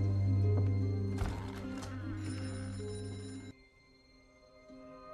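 A telephone rings in a French-dubbed action fantasy film, its bright repeated bell trilling loudly over a low musical drone for about three and a half seconds before stopping abruptly, leaving quiet room tone.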